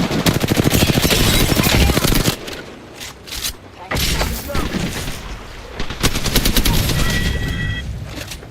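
Video game gunfire rattles in rapid automatic bursts, loud and dense, with pauses, a heavier thump and some scattered shots between volleys.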